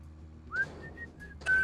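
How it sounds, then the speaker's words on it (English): Short whistled notes in the video game Deadly Premonition, a rising whistle followed by a few brief tones and a louder final whistle, clear over a quiet low game background. "Random whistling, sure."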